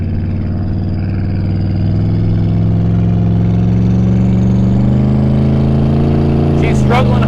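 Car engine under heavy load while the brakes are locked up, a loud steady droning growl that climbs slowly in pitch and strain, with a short burst of noise near the end.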